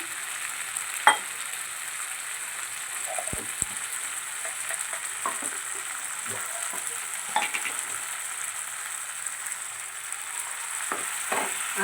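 Spice paste thinned with a splash of water sizzles steadily in a pan for a paneer dish, a close, continuous hiss broken by scattered clicks of stirring, with no talk.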